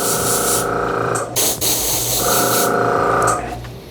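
An airbrush spraying dark brown color in a steady close hiss, interrupted briefly by short gaps before resuming, loud and alone with no talk.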